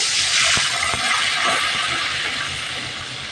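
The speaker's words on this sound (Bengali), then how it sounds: "এখন দিয়ে দিব অল্প পানি।" A loud, steady hiss of a little water hitting a hot pan of fried onion and garlic, sizzling strongly at first and easing slightly toward the end, with no voices.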